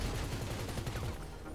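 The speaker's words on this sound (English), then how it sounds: "Let me shoot you out the window." Rapid gunfire from a shootout in GTA 5 Online, dense overlapping bursts like a fusillade, loud and continuous throughout the short stretch with no voices.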